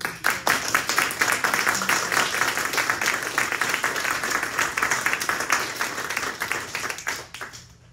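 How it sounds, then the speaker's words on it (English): An art gallery audience claps and applauds steadily for several seconds after an artist talk, a dense crowd sound that gradually thins out and fades at the end. "How about a round of applause?"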